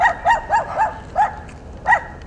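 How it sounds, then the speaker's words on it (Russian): Dogs at an animal shelter's enclosures bark in a quick series of sharp yaps, six or so, fairly close and loud, with short pauses between. "Уже за несколько сотен метров от вольеров слышен громкий лай собак."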